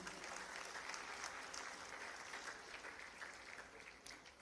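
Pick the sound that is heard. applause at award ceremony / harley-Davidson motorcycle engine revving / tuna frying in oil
applause at award ceremony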